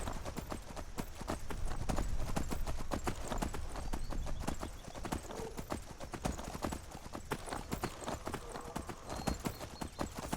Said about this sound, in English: Let's see if the horse stuff works.